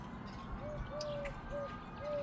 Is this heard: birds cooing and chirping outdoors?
yes